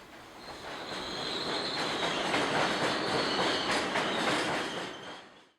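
A train rolls steadily along the rails with a continuous rumble and a high metallic squeal from the wheels, loud and close, fading out at the end.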